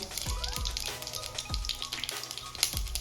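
Mustard seeds sizzle in a spoonful of hot oil in a kadai, a steady hiss with small crackles and a few soft pops and thuds, close and moderately quiet.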